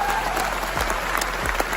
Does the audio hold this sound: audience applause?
yes